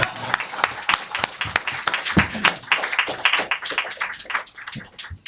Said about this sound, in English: I guess that's a cue for you to clap